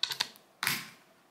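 Small screws are started by hand into a SIG SG 510 (Sturmgewehr 57) rifle trigger housing, making a few light metallic ticks and a brief scraping click, close and quiet.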